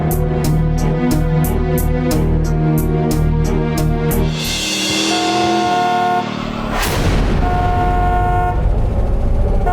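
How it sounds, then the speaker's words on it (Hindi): A car horn honks in a rapid, loud run of short repeated toots, then gives way to a longer blast and blaring road noise close by. "आप ऐसे बार बार हॉर्न क्यों बजा रहे हैं?"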